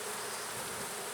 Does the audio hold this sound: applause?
no